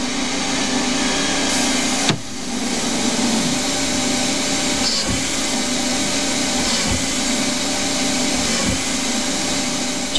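CNC lathe machining a vintage BSA Empire Star motorcycle part, threading and tapping with a steady whirring drone and occasional sharp ticks, constant and fairly loud.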